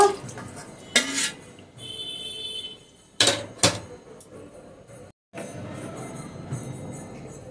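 Bombay duck fish tipped from a container into an aluminium bowl, giving sharp metallic clatters and bangs, a few loud hits and then a wet slide and rustle close by.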